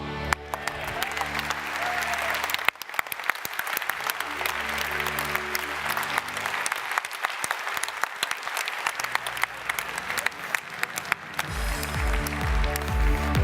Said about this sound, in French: Alors, toutes les équipes méritent vos applaudissements.